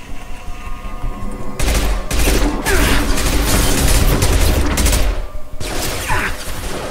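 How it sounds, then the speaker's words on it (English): Gunfire in the video game Mass Effect 2: sustained bursts of rapid automatic shots with heavy booms, loud and close, pausing briefly between volleys. "Whoa, they are shooting"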